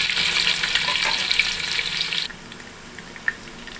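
Chopped onions hit hot oil with cumin and fenugreek seeds, a loud close sizzle that crackles steadily, then drops abruptly to a quieter frying hiss with an occasional small clink.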